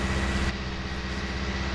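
Farming Simulator 19 tractor engine running steadily at a low idle-like rumble, moderately loud and continuous with no talk over it.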